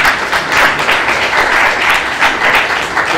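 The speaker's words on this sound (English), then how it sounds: "Big round of applause." An audience claps steadily, a dense wash of applause filling the room without letting up.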